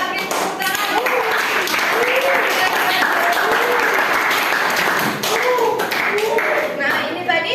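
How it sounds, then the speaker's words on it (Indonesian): Students in a classroom give a round of applause after a chemistry lesson, brisk, fairly loud clapping from many hands running the whole stretch, with a teacher's voice speaking intermittently over it. "Kita beri tepuk tangan"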